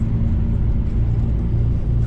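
A bus rolls on a long-distance journey, its interior filled with a loud, steady low engine and road rumble that stays constant from start to finish, with no voices.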